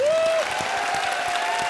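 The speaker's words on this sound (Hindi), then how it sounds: "तालियां बजा दो।" Studio audience applause at a comedy show's awards-special stage, a dense, even clapping wash holding steady, with a sustained sung or held vocal note at the start.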